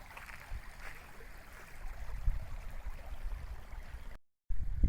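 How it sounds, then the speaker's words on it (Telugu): Floodwater after heavy rain rushing over a field embankment in a village where crops are submerged, a steady low roar of flowing water outdoors with wind rumble, ending with a brief dropout. "చూడండి ఫ్రెండ్స్, కైల మీద నీళ్ళు ఎట్టున్నాయో."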